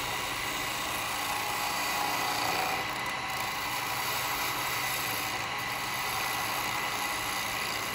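Steady, dense scraping hiss of a gouge making a push cut on spinning wood on a lathe while turning a wooden cowboy hat, continuous and close with a faint high whine throughout.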